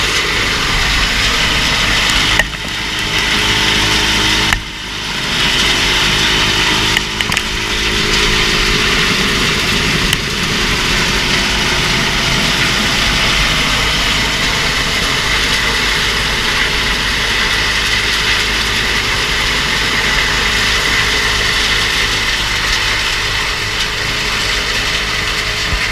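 An International 51 silage wagon unloads chopped corn into a silo-filling setup, a tractor engine and wagon machinery running in a continuous, loud mechanical drone with a couple of brief dips and clunks, no voices.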